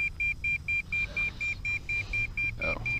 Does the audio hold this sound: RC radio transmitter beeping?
yes